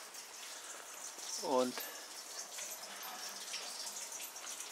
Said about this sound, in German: Das ist eine Gaststätte in Dieblich mit einem Mühlrad, was von Wasser angetrieben wird.